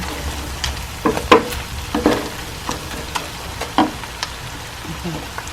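Pasta and sardines stirred in a frying pan, with a steady low sizzle under irregular clinks and scrapes of the utensil against the pan.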